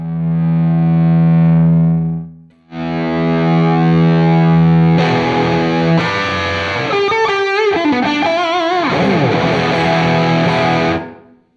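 Distorted electric guitar played through a small Studio 2 two-watt amp driving a 4x12 speaker cabinet: held chords ring out, a short pause, then more sustained chords and a busier run of notes, loud and close with no talking.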